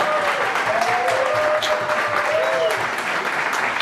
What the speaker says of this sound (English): One round of applause for them.